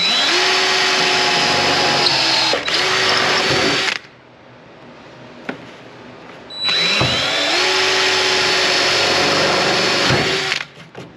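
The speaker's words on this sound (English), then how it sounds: "we'll use the same small 1/8 inch bit to pilot the holes in the center of each mark" A small power drill with a 1/8 inch bit whirs in two loud bursts of several seconds each, spinning up and down while drilling pilot holes, with a brief quieter pause between them.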